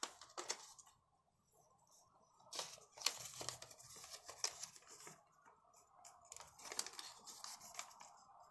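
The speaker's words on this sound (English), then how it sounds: "inside reverse fold both the flaps" Paper being creased and folded by hand while making an inside reverse fold on both flaps of an origami jet, heard as close, crisp crinkling and rustling bursts in irregular clusters, with quieter gaps between, no talking.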